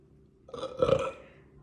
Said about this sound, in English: I have burpy hiccups.